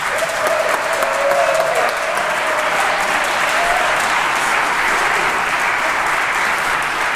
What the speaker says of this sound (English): So I was wondering if we can give him another round of applause.